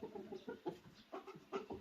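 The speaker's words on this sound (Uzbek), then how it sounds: "Mana xo'rozni qarilari." Older roosters kept in a small coop cluck and call in short, close bursts, several quick notes in a row with brief gaps between.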